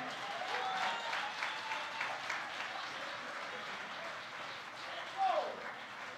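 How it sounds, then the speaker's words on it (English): A church congregation applauds, a soft, steady wash of clapping heard from a distance throughout, with a brief louder swell near the end. "Y'all clap for my man."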